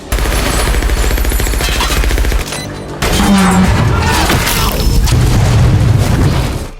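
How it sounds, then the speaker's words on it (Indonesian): Bomb going off in an elevator in an action movie scene, a heavy booming blast over rapid gunfire, loud and dense, with a brief drop in level before the roar of the explosion and its debris carries on. "Namun lift tersebut ternyata telah Clay pasangi bom."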